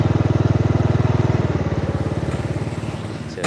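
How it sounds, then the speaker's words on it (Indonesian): A motorcycle engine idles with a steady rapid pulsing throb that gradually slows and fades, before a brief burst of other noise near the end as another motorbike arrives. "Ada kiriman motor lagi."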